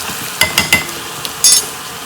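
Spicy moong dal frying in oil: a few close clinks and scrapes of a utensil stirring the pan, plus a brief brighter rattle over a soft sizzling background.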